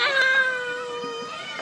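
A child imitates a cat's meow, giving one long, clear, close mew that slides slowly downward and trails off, with no talk over it.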